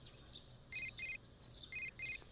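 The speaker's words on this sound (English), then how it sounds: "Your cell phone is ringing." A cell phone ringing in the video game Persona 4: a bright electronic ringtone of repeated beeping bursts in a steady pattern, faint low background hum underneath, no talk.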